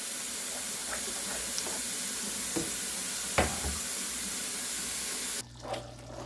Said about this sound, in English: Make sure you keep stirring it because you don't want it to stick.